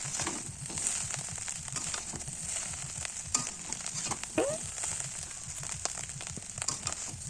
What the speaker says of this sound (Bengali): এবার আমি চাউমিন মশলা আর ম্যাগি মশলাটা দিয়ে দেবো। ভালোভাবে মিক্স করে নেবো।